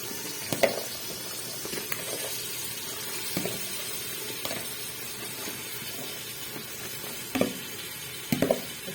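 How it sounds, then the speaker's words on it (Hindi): Chopped potatoes, carrots and fenugreek leaves fry in a hot pan with a steady soft sizzle, broken by a few sharp clinks and scrapes of a stirring spoon, close and alone. "साथ साथ हमने इसमें डाल देने अभी सब्जियाँ"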